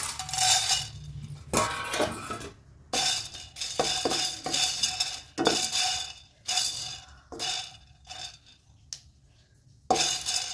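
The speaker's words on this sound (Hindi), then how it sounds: "उसी आँच पे मैं सारा भून रही हूँ।" A spoon stirs and scrapes pickle spices as they roast in a pan over high heat, making repeated bursts of metallic clatter with short quiet gaps between them.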